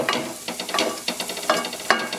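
Black chickpeas are stir-fried in a pan over low to medium flame, with a light sizzle and a rhythm of repeated scraping, tossing stirs, near and moderately loud, without speech.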